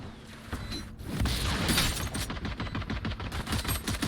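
Gunfire shot through walls in the Valorant video game, with a rapid rattling burst of automatic shots, a sharp impact, then sustained rhythmic fire, loud and dense throughout.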